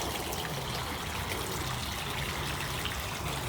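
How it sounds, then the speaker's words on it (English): Trickling water of a repaired garden waterfall, a steady close-up splashing and dribbling wash throughout, fairly quiet with no voices. "I fixed that waterfall as well. It hadn't worked for years."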